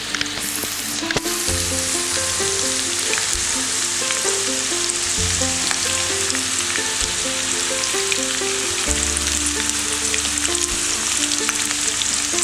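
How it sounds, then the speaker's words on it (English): Onions frying in oil in a kadai for mutton biryani, a steady, dense, close sizzle with stirring and a brief clatter near the start, with no talk. "I am going to fry the onions until golden brown,"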